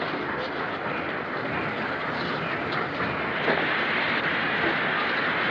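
A train rumbles at a railway station in a steady, dense roar that holds through the whole stretch, with faint clattering over it.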